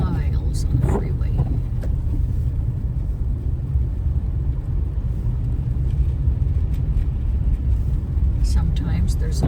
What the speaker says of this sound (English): I am running at 22